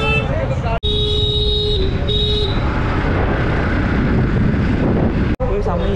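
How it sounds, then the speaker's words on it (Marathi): Dense roadway noise from a traffic jam on the route to Mahakumbh in Prayagraj, a steady wash of engines with brief horn tones early on and a voice talking throughout. "गर्दी आहे बघा, गर्दी बघा. ट्रॅफिक जाम आहे पूर्ण इकडे."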